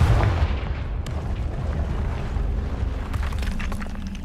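Confringo spell explosions in Hogwarts Legacy, a deep rumbling boom with a sharp crack partway through, layered over continuous game noise.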